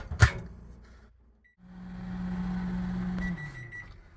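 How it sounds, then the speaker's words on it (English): A sharp knock, then a microwave oven heating boba milk tea on high starts up with a steady low hum and whir that runs for a couple of seconds before winding down with beeps. "we're going to take this and put it back in the microwave for 45 seconds"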